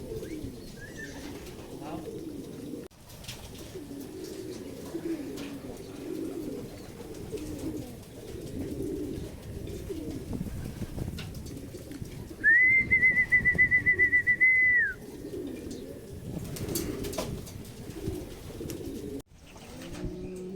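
Racing pigeons coo in a low, continuous murmur at a family loft after a club training flight, with a sustained whistle rising clearly above them partway through.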